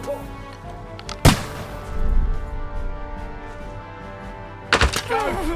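Two sharp, loud gunshot blasts in a chaotic battle from Kingdom Come: Deliverance 2, spaced a few seconds apart over low rumbling background and shouting voices.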